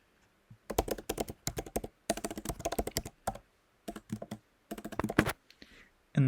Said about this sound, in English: So you can simply type protected,